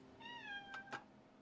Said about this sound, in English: that is my cat Isabel, also known as Izzy Belly.